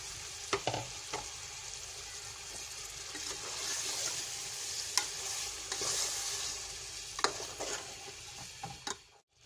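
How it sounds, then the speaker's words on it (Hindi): Tomato paste sizzles steadily in a hot pan for biryani while a spoon scrapes and stirs through it, with irregular clinks and scrapes over a continuous close-up frying hiss. "टमाटर के साथ हमने थोड़ी देर भूना।"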